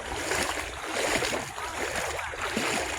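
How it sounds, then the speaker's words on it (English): Floodwater rushes through a swollen creek on a flooded hike in Southeast Texas, a steady, loud broadband wash of flowing water that continues without pause. "That water's flowing way up there."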